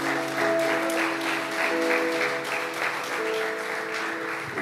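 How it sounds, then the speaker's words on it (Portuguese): Church congregation clapping during a sermon, sustained applause throughout, with sustained musical tones underneath. "Aplauda."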